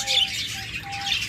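Japanese budgerigars, a breeding pair, give a few short high chirps and tweets, fairly close and moderately loud, over a faint steady background hum.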